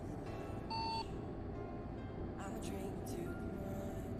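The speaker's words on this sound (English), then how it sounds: "What's with the beeping sound?" A short electronic CB radio beep in Euro Truck Simulator 2 multiplayer sounds once near the start, over a steady truck engine rumble with voices in the background.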